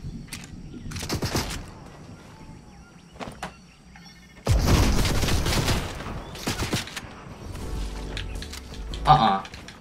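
Gunfire in the video game Fortnite comes in bursts, scattered shots early, then a dense loud volley midway and more firing near the end, amid other game effects and a player's voice.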